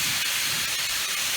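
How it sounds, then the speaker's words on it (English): Cornish hens sear in a hot pan, giving a steady, loud broadband sizzle and hiss that holds evenly throughout with no talk over it. "Gonna pan sear them."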